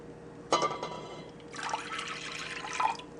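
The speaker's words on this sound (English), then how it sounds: "Now you're going to add your cup of water" A cup of water is poured into a heated pan while making cheap wheat paste, giving a close splashing trickle that starts abruptly, pauses, then runs steadily for a couple of seconds with no talking.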